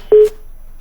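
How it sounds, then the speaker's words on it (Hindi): A phone call to a news broadcast fails to connect and cuts off. A single short, steady telephone tone sounds loud and clear, then trails off into silence. "तो लगता है संपर्क नहीं हो पा रहा है। एक बार फिर से फोन जरूर कटा"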